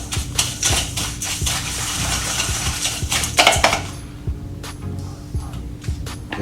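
Crushed biscuit and melted butter are stirred in a bowl, giving steady close scraping and clinking of a utensil against the bowl with repeated sharp knocks, continuous at first and then sparser.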